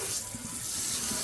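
Water streams from a Grohe Concetto single-hole pull-down kitchen faucet in spray mode, a steady close hiss of running water into a sink throughout.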